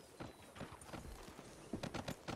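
Horse hooves clip-clopping in a video game, a quiet, steady series of hoof strikes that speeds up into a quicker cluster toward the end.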